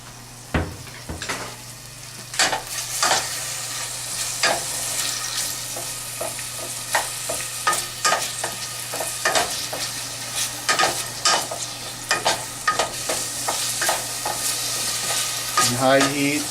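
Oil sizzling steadily in a pan on high heat for a Filipino salmon paksiw, with repeated sharp stirring clacks and scrapes of a utensil against the pan over the continuous hiss.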